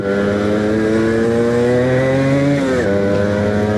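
A Suzuki Shogun two-stroke motorcycle engine runs close and loud with a steady buzzing drone, holding its pitch before briefly dipping and settling again, with no talking.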